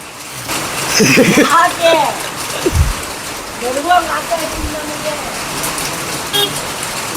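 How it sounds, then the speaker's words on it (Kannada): Heavy rain pours steadily during a hill trek at Siddara Betta, a constant broadband wash beneath loud nearby talk. "ಸಖತ್ ಹೆವಿ ಮಳೆ ಗುರು ಮಳೆ ಅಂದರೆ ಮಳೆ ಸಖತ್ ಹೆವಿ ಮಳೆ"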